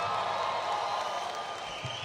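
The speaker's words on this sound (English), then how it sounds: "give yourself a nice applause" A crowd of about 1,800 people at a Donald Trump campaign rally in South Carolina gives sustained, roaring applause and cheering, a dense wash of clapping that holds steady throughout.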